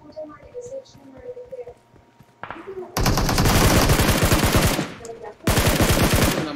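Automatic gunfire in the shooter game PUBG: two long, loud bursts of rapid shots, the second starting after a brief pause. Talk and quieter game sounds come before them.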